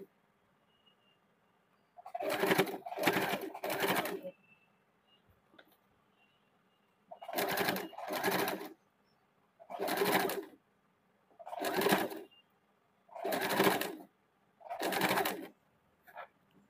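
A sewing machine stitches lace onto the neckline of a kurti made from a saree, running in seven short, loud bursts separated by pauses in an otherwise quiet room.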